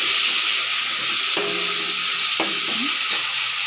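Mashed skunkvine leaves go into a hot pan, setting off a loud, steady sizzle and hiss with a few brief scraping stirs near the middle, close up and with no talking.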